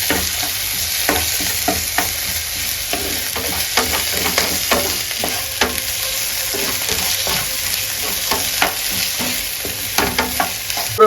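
Tomatoes are stirred into onions frying in a pan for a chicken curry, a steady close sizzle broken by frequent clicking spoon scrapes and knocks against the pan, with no talking.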